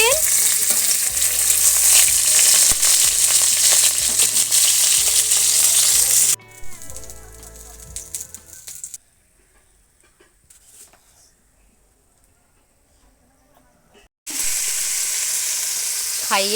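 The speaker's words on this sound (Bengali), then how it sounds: "মাছটা ভাজা করে নিই" Fish frying in a pan, a loud close sizzle with stirring for about six seconds, then a quieter spell and near silence before the strong sizzle returns at the end.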